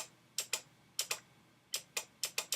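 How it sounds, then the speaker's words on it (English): An automotive relay wired into a custom M249 airsoft gun clicks on and off in quick sharp pairs and clusters, crisp, close and dry against a quiet background. "hear the little clicking? That's the relay clicking on and off."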